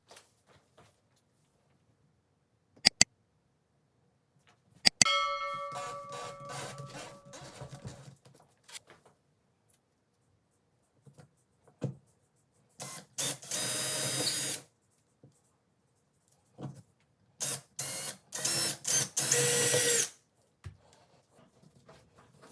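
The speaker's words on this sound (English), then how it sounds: "I'm going to use a drill bit that's just the right size for the wall" A power drill bores anchor holes into a wall, several short separate bursts of whirring and grinding between quiet pauses, close and moderately loud, with a few sharp clicks and knocks between.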